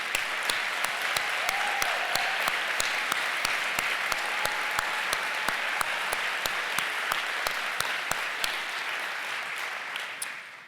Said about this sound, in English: we can all give them an applause and congratulate them on that journey.